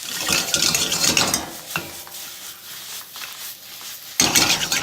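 Garlic and black pepper tossed through chicken and beans in a pot for a spicy soup, with a rattling scrape and sizzle at the start and again at the end and quieter stirring clinks in between.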